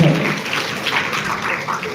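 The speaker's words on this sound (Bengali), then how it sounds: "সকলকে বলবো একটু জোরে করতালি" Brief burst of applause, many hands clapping together in a crowd, loud and steady for a couple of seconds.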